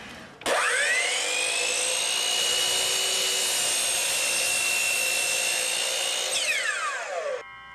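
A Hitachi C12RSH miter saw spins up to a loud, steady high whine as it cuts through a workpiece, holding for several seconds before the motor winds down with a falling pitch.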